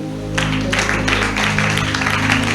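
A church congregation applauding in acclaim of Jesus, a steady burst of clapping with a sustained musical tone beneath.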